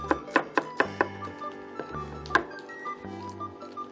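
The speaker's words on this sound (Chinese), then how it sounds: "那我们现在开始切洋葱碎" A knife chops onion and garlic on a cutting board: a quick run of five sharp, crisp taps, a pause, then a few more scattered strikes, fairly quiet and close against a faint low hum.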